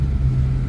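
Sports cars at a car meet rumble past in a convoy, a loud steady low engine drone close by.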